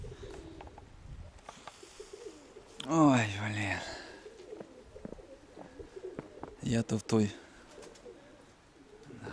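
Domestic pigeons near a loft give low cooing calls in two short bursts, with someone talking nearby amid faint outdoor background.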